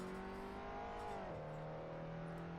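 An Abarth race car engine drones at Brands Hatch in Assetto Corsa, a steady tone that drops in pitch as the driver lifts off under engine braking, faint and alone.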